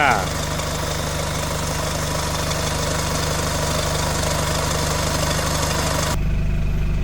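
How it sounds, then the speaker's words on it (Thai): A Nissan pickup truck's engine turns over and settles into a steady, loud idle close by, with a constant low rumble throughout and a slight change in tone near the end. "รถคันนี้สตาร์ทบึ้มบึม"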